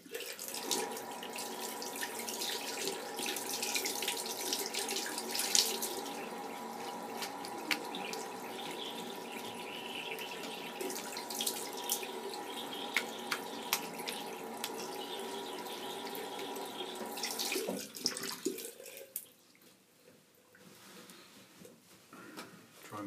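Cold water runs steadily from a tap into a sink, a close, continuous splashing rush with brief drips, then cuts off near the end as the water is turned off; a voice is faintly heard.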